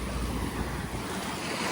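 Sea waves at the shore of Perhentian Island, Terengganu, a steady close wash of surf mixed with wind buffeting the microphone.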